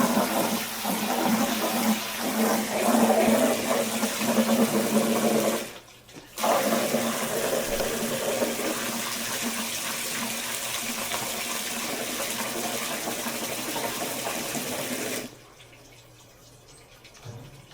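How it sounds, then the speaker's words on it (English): Water runs steadily from a tap into a 5-gallon bucket holding calcium nitrate nutrient mix, a continuous rushing flow with a brief pause partway through before it resumes and then cuts off. "Then I like to add water and kind of combine it."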